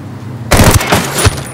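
Game gunfire from an M4A1 rifle in Ghost Recon Wildlands: after a quiet half second, a loud, close burst of several rapid rifle shots rattles out over about a second.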